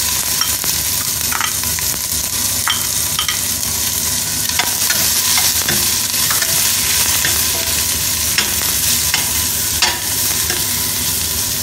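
Red chilies and onion frying in oil for Kerala black chickpea curry, a steady close sizzle running the whole time with scattered crackles and pops on top and no talking.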